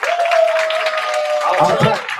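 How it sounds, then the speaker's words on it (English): Audience applause at a school Black History program, a short steady patter of clapping under an amplified voice and a tonal hum. "Let's clap it up."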